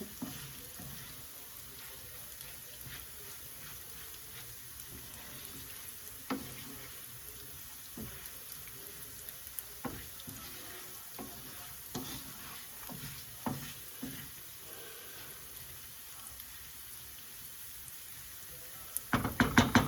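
Soft sizzling of rice frying in a pan for Mexican lemon white rice, with occasional scraping and stirring clicks, then a louder clatter at the very end.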